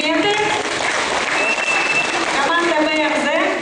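A KVN comedy show audience in Tavda gives sustained, loud applause, with voices and crowd noise mixed into the steady clapping throughout.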